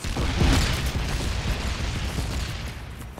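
A grenade in Killing Floor goes off with a loud close boom, followed by a noisy rumbling tail of debris and chaotic game sounds that fades over a few seconds.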